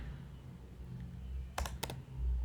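A short burst of close keyboard typing enters TypeScript code in VS Code, with two quick clusters of crisp clicks over a low background hum.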